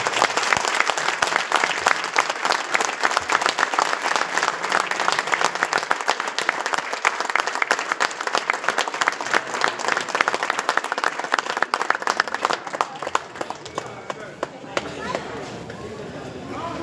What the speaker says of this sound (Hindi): एक बार सभी खड़े होकर के हमारे पद्मश्री के लिए, सम्मान के लिए तालियां बजाएं